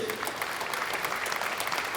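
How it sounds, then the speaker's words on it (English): Dense crowd applause at a university convocation ceremony for a graduating medical sciences student, sustained and even throughout. "her a tremendous round of applause"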